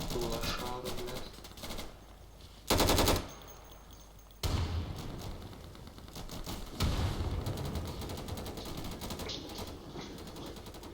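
Gunfire in the video game Insurgency: bursts of automatic and single shots at varying distances, with two loud, sharp volleys standing out among fainter crackling fire and low background noise.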